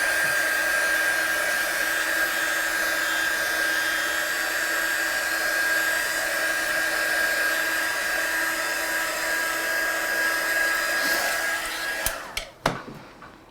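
A handheld heat blower dries a stamped Christmas watercolor card, a steady loud whirring roar that holds for about eleven seconds, then cuts off with a few clicks and clatters as the tool is switched off and set down.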